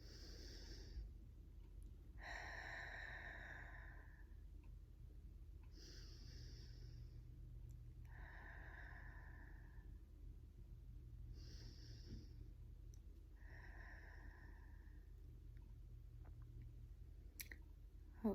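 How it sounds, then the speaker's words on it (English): Slow, deep breathing during a relaxation exercise: several long, soft inhales and exhales in an even rhythm, close and quiet, with no talking. "take the deep breath in"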